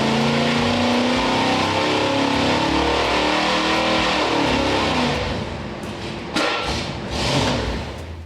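A classic car's 396 engine runs with a loud, steady, rough rumble, then drops back and surges again in a short rev, close by with no talk.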